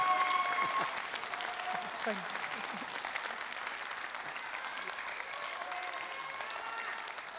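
Audience applause for a contestant at a Neapolitan talent show evening, steady dense clapping sustained throughout, with some crowd noise and a voice faintly mixed in.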